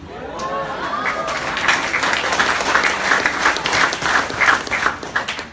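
An audience at a business opportunity presentation breaks into loud, dense clapping that builds and holds steady, with a few voices mixed in beneath the applause.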